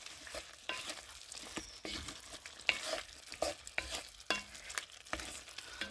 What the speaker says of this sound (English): I'm going to let the spices cook a little bit